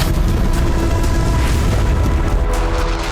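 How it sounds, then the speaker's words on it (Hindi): Rocket attack explosions from Hezbollah fire on the Ramat David airbase in northern Israel, heard as a continuous heavy, rumbling boom that stays loud and dense throughout, with no voices. "हिजबुल्लाह ने कई रॉकेट फायर किए।"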